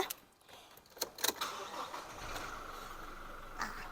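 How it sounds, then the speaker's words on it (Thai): A pickup truck engine, a Toyota Revo or Isuzu D-Max, cranks and catches, following a few clicks and jangles, then settles into a steady low idle nearby. "ขอสตาร์ทเครื่องยนต์ให้ดูนะ"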